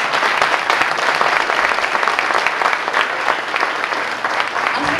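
Audience at a wine awards ceremony in Chile claps for winners of a desert valley wine prize, dense continuous applause filling the hall at an even level from start to finish.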